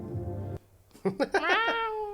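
Cat meowing near the microphone, a couple of short rising and falling meows after a moment of quiet, following a voice at the start.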